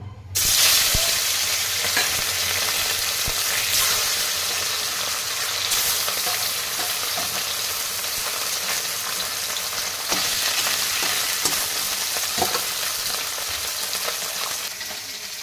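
Small puti fish frying in hot mustard oil in a wok, a steady loud sizzle that runs unbroken throughout with occasional crackles and pops, no voices.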